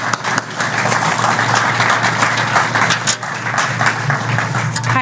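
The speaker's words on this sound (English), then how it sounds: "Give her a great big round of applause." A roomful of people applauding steadily at a mayoral campaign kickoff, a dense wash of clapping that holds at an even level throughout.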